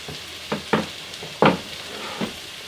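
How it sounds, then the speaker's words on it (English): Onions and mushrooms sizzle in a pan beside steak and eggs, a low background fry broken by a few scraping stirs, close up and without talk. "We got the onions popping. We got the mushrooms in here popping."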